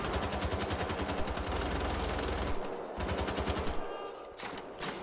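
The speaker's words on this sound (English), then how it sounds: "I just wasted a shitload of ammo." Machine gun fire in the video game Wolfenstein: The Old Blood rattles in a long rapid sustained burst, loud and close, then breaks into shorter bursts with brief gaps.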